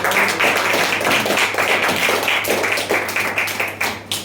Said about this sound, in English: A huge round of applause for the moderator.